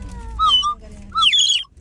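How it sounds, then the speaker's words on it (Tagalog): A water-filled bird whistle blown during a road trip gives two warbling, chirpy trills like a songbird, each about half a second long and separated by a brief pause, fairly loud and close. "Si Awis magaling para talagang ibon pag umihip."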